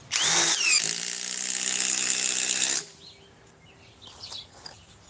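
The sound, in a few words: Ryobi cordless impact driver running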